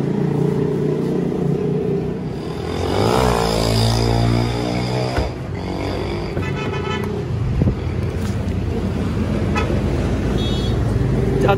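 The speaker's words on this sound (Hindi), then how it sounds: "गाड़ी में हम बैठ चुके हैं जा रहे हैं" A car driving along a road with passengers inside, steady engine and road rumble throughout, with horns tooting from nearby traffic and faint voices in the cabin.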